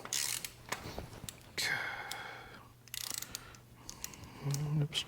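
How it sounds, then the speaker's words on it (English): A ratchet works loose tight studs on a Cummins 12V engine during a teardown in a square-body truck, giving intermittent clicking bursts and creaks with quiet talk and pauses between them. "I don't think you should have to have an 18-inch ratchet to get your studs out."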